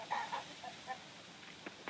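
Chickens in a coop in the Coral Island farming game, a few soft, faint clucks and short calls early on, then quiet.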